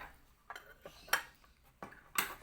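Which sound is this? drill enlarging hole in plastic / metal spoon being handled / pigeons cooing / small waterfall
metal spoon being handled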